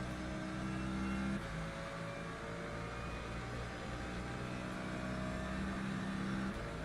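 A Mercedes race car engine in Le Mans Ultimate at Monza, steady high-revving drone on the straight with gear-change dips, loud and constant.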